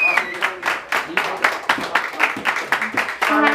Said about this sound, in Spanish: Y ese aplauso bien bonito para ellas